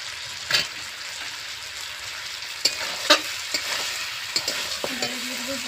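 Mutton with tomato fries in a pan under a steady close sizzle, punctuated by several sharp scrapes and knocks of a spoon stirring, no voices.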